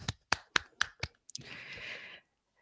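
A lone host claps about five times at a steady pace, sharp and close, followed by a brief burst of broadband rustling noise, with no voices.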